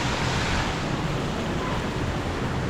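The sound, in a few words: Taytay Falls waterfall, Majayjay Laguna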